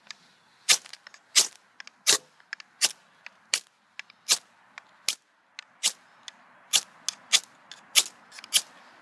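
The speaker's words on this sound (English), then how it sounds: "test out the spine using my UST fire starter" A UST fire starter rod scraped along the spine of an OKC bushcraft knife throws a series of sharp, bright rasping strikes, about sixteen in nine seconds at an uneven pace, close and crisp with quiet gaps between.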